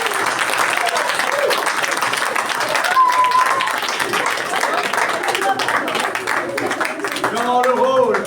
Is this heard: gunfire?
no